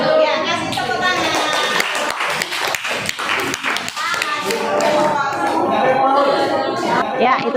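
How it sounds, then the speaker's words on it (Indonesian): A class audience of children claps after a classroom presentation, the clapping mixed with lively children's chatter and voices throughout, close and loud. "Ya, kasih tepuk tangan."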